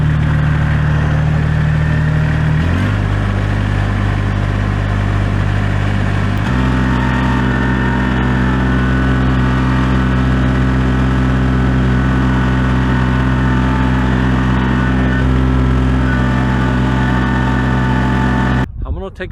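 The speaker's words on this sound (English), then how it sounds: "I'm going to take my tractor inside the garage so I can take the lawnmower off." Kubota BX2680 compact tractor engine running steadily and loud nearby, with a steady low drone that shifts pitch twice early on, then holds an even idle-like hum until it cuts off at the end.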